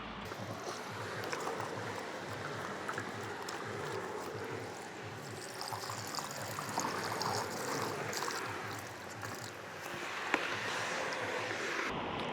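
Car wash mitt rinsed in a water bucket, a steady close sloshing and trickling of water with a soft continuous wash of splashing and no speech.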